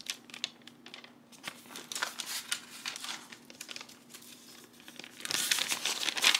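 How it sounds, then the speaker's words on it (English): Wet, then dried paper book pages being handled close up, giving steady dry crinkling and crackling, louder and denser toward the end. "Like when paper gets wet and it crinkles"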